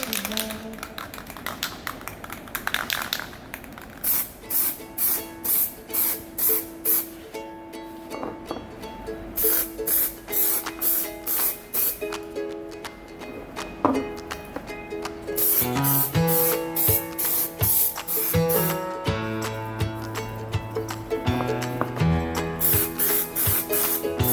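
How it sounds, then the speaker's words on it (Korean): Repeated short bursts of aerosol spray, thin coats onto scratched plastic, each a quick hiss, in a steady series over background music, with a busier stretch toward the end. "스프레이를 잘 흔들어서 얇게 뿌려주세요"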